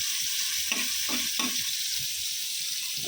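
Bitter gourd fries in a pan with a constant hissing sizzle, while a few quick scrapes of a spatula stir the slices, close and clear with no voices.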